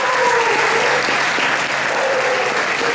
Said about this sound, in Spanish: me parece que se merecen un aplauso